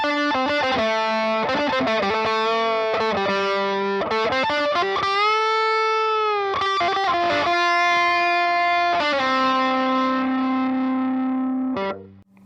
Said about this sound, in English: So there's a pretty simple fuzz tone there.